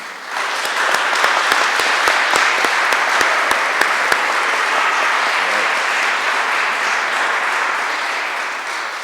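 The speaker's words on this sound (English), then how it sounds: "Can we give a round of applause for these young men and women?" A large audience at a middle school honor society induction ceremony applauds, a loud sustained wash of clapping with a few sharp nearby claps early on, continuing steadily before easing slightly.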